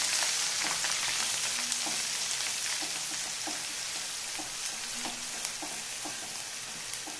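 Spice masala fries in a pan for a soya chunks curry, giving a steady, dense sizzle with small crackles and occasional soft stirring scrapes throughout.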